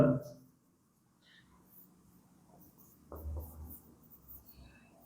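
Writing on a board during a grammar lesson, heard as faint, sparse scratching strokes over a quiet room background, with no clear talk.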